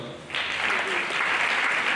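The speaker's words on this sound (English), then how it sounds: "Please let's give him a round of applause" An audience at a university lecture applauds after a speaker is introduced, clapping that begins suddenly and continues as a steady, fairly soft wash.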